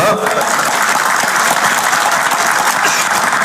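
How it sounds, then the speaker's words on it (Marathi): A crowd at Uddhav Thackeray's Jansanvad political rally claps in dense, loud, sustained applause for a few seconds, with a voice faintly audible underneath. "बघा मी बोलल्यानंतर टाळ्या वाजल्या"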